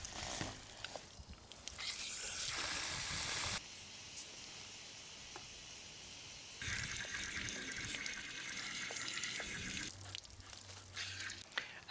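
Water is poured into concrete in a fence post hole while a metal picket fence is installed, making splashing, trickling gushes in several separate bursts with short quieter gaps between them.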